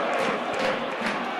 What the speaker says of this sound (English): The crowd getting behind the team now